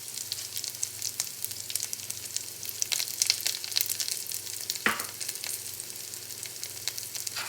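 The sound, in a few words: garlic cloves sizzling in a frying pan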